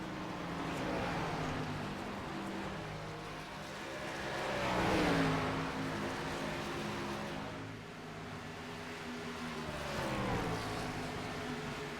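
NASCAR Xfinity race cars lapping at Dover make a continuous engine drone from a distance. The pitch sweeps as cars pass, and the sound swells around the middle and again near the end.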